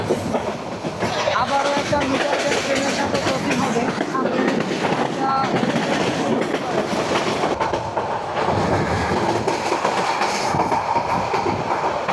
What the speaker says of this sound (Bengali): তার প্রথম স্টপ ঢাকা বিমানবন্দর রেলওয়ে স্টেশনে প্রবেশ করলো